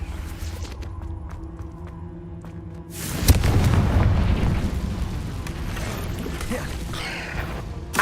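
A Confringo blasting spell explodes in Hogwarts Legacy inside a cave, a sudden loud boom after quiet ambience, then a long rumbling roar that slowly fades, with a voice heard earlier.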